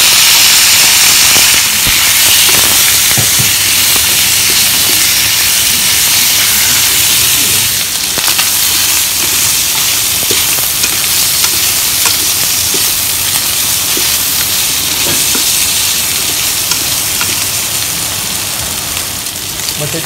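Sliced pork for a fish-sauce stir-fry sizzles loudly and steadily in a hot pan, a dense, unbroken hiss that stays close and strong for the whole stretch.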